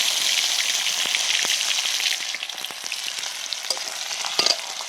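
Cumin, curry leaves and garlic fry in hot oil in a pan over a wood fire, a loud, steady close-up hiss and crackle with a few scraping stirs.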